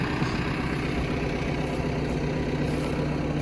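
A Lovol 1054 tractor with a 105-horsepower engine, pulling a Lemken EurOpal 5 plough, runs with a steady, loud diesel drone and a low engine rumble that holds constant throughout with no talking.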